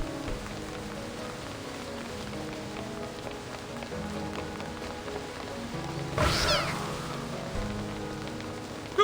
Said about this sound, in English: What are all these splinter cats doing here?